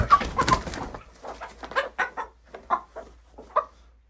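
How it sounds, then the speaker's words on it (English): A chicken clucks in a short series of soft, choppy calls, fairly close, on a Montana homestead in spring, after a brief burst of noisy activity at the start. "There, look at a chicken."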